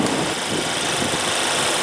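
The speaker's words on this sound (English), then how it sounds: "under the hood you will find a 2-liter 4-cylinder turbo engine producing 241 horses with 273 pound-feet of torque" A 2015 Mercedes-Benz C300 with a 2.0-liter turbocharged four-cylinder idles close by, giving a steady, even drone with a faint underlying vibration and no voices.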